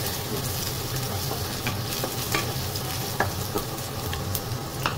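Garlic sizzling in hot oil in a pan while being stirred, with a steady close crackle and scattered scraping clicks from the utensil, cooking for ampalaya with egg.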